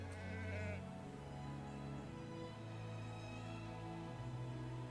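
Sheep bleat in Anno 1800, a couple of drawn-out bleats over a steady layered music-like background that continues throughout.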